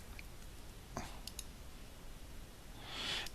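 A computer mouse clicks a few times on a Mac running virtualization software, faint, sharp ticks against quiet room hiss.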